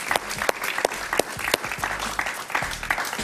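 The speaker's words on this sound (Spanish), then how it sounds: "Un aplauso para Belén Marrero." A studio audience applauds on a television talk show, uneven clapping with sharp individual claps popping out of a broad wash of hands, fairly close and continuous, with no speech over it.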